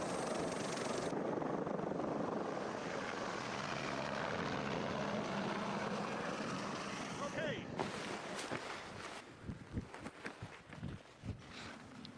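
A helicopter flies up from the Lauterbrunnen valley toward the Jungfrau summit at around 4000 metres, its rotor and engine a loud, constant broadband roar that gives way to bumps and handling noise near the end.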